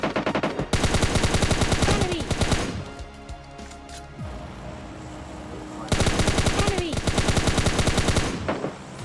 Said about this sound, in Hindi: अब उधर से गोलीबारी चालू हो जाती है सब लोगों में।